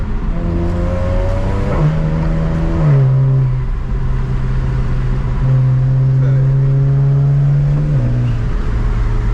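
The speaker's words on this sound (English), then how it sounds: "Dang, I'm barely on the throttle." A BMW 335i's engine drones loudly and steadily from inside the car while driving, its pitch climbing and shifting between gears under light throttle, with a continuous close-up hum and no talking.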